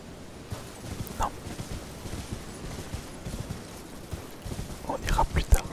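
A horse's hooves clop along in the video game Elden Ring, soft irregular footfalls under quiet ambient noise, growing into a brief flurry of heavier thuds near the end.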